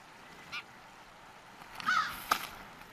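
A few short, harsh bird calls sound at a distance in the outdoors, where crows and raccoons roam near an eagle nest; two faint calls are spaced apart over low ambient hiss.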